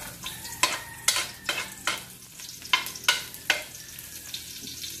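Onions and garlic frying in a pan, a low sizzle broken by a series of sharp stirring scrapes and clacks at an uneven rhythm, close by with no talking.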